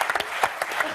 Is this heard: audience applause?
yes